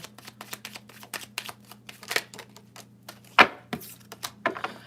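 Tarot cards are shuffled by hand with long nails, giving a rapid string of crisp clicking and riffling taps, close and fairly loud, with a faint steady hum underneath.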